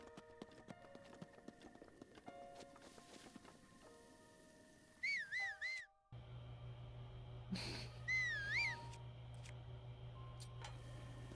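Link whistles in The Legend of Zelda: Breath of the Wild, two short rising-and-falling melodic whistles heard clearly over quiet game ambience and footstep ticks, with no talking.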